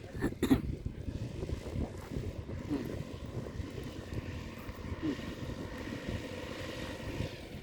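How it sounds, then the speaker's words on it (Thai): A small ultralight aircraft at an airfield fest drones steadily at moderate distance. The engine hum is continuous and low, with a few faint handling bumps near the start. "เครื่องบินเล็กเด้อค่ะเด้อ"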